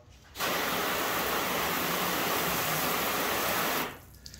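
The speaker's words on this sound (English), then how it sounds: "Let's rinse it off." A strong spray of water rinses a car finished with a graphene or ceramic coating spray, a steady, loud, close broadband hiss that starts abruptly, holds for about three and a half seconds and then cuts off.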